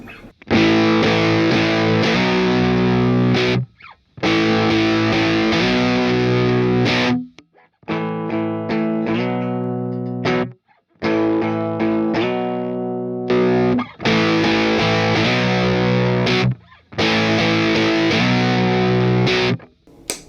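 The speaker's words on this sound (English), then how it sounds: "if I engage it, we get more of a overdriven, clean sound" Overdriven electric baritone guitar, an LTD James Hetfield Grynch 27-inch, plays heavy, crunchy riffs and sustained chords in loud bursts separated by brief pauses, with no talking.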